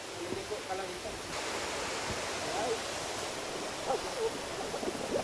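The Can-umantad waterfall in Bohol, Philippines gives off a steady broadband rush of falling water. A voice speaks intermittently over the roar.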